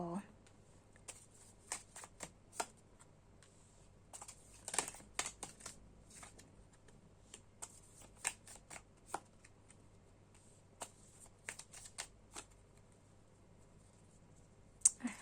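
Tarot cards being shuffled by hand, soft riffling and slapping bursts scattered through a quiet room, close and faint, with someone talking in between.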